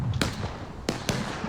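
Union cannon battery firing in the War of Rights video game: three sharp, loud booming shots spaced irregularly over a steady background rumble, with no talk.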